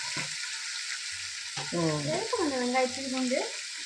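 Tomatoes sizzle and fry in a pan for tomato biryani with a steady hiss while a voice speaks briefly over it.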